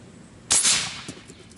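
Shot from a QEV air rifle firing a 5.2 g pellet at over 500 psi, a single sharp loud crack with a short hissing decay, close and alone.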